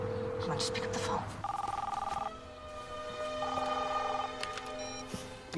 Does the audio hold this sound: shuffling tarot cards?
no